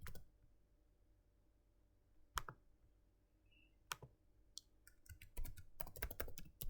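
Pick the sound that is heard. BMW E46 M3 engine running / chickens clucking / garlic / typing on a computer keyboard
typing on a computer keyboard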